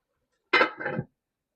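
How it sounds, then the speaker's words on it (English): A pot lid being set down over a pot of Jamaican oxtail left to simmer, giving a single short metallic clink and rattle, close and fairly quiet, with no talk. "Now I'm gonna cover up this, make it go and simmer on low heat for another 15 minutes"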